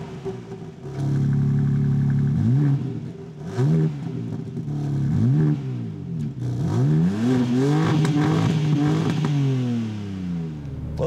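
A 2022 BMW M4 Competition Convertible revs and pulls away, its engine note rising and falling in repeated sweeping bursts, loud and close with a throaty, clattering edge.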